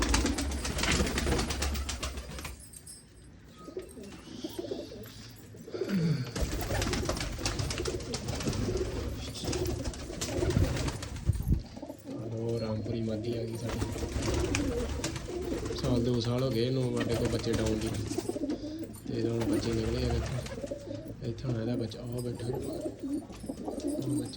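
Several white and red pigeons in a loft coo in repeated low, rolling calls, overlapping and fairly close, with steady background noise throughout.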